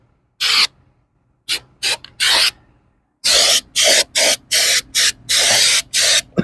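Thick chrome paint coating is sprayed in short, loud hissing bursts, about a dozen of varying length. Some come in quick succession and others are spaced by brief silences, all close to the listener.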